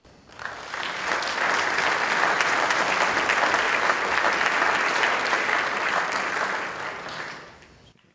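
A large audience at the Climate Week NYC 2010 opening ceremony applauds loudly as a guest is welcomed to the stage, with sustained dense clapping that swells quickly, holds for several seconds and then fades out.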